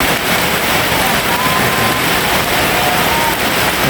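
Steady rainfall makes a dense, constant hiss that stays level throughout, with no breaks or talking over it.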